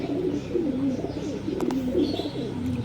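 Punjabi Malbai pigeons coo nearby in a steady, low, rolling murmur of overlapping calls, with a couple of faint clicks in the background.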